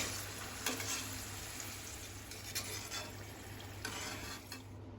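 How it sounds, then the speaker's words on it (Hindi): Taro root (arbi) frying in hot oil makes a steady, close sizzle, with a few light clinks and stirring sounds over it and no speech. "इसी तरीके से हम दूसरे बैच की अरबी को भी फ्राई कर लेंगे।"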